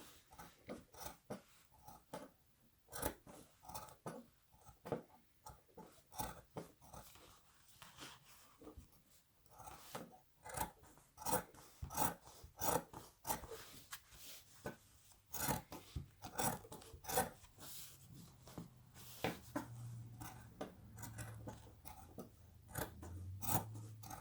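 Scissors snip steadily through denim jeans along the outside leg seam, a long run of crisp, close cutting strokes in an irregular rhythm, with faint rustling of the fabric between the cuts.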